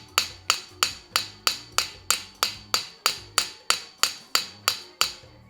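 A texture hammer strikes a metal sheet in a steady, even rhythm, about a dozen sharp ringing taps in a row, close and clear with no talking.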